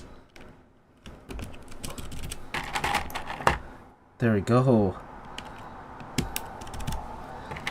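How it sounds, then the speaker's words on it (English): Someone types on an NK65 mechanical keyboard fitted with freshly swapped switches, producing close, clacky bursts of keystrokes with pauses between them, alongside a brief spoken remark. "This is gonna be a pingy keyboard now."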